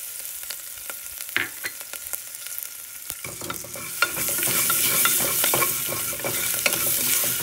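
Green chilies dropped into hot oil with curry leaves sizzle and crackle steadily, the frying growing louder and denser partway through, with scraping stirs of a spoon in the pan for coconut rice, close and without talk.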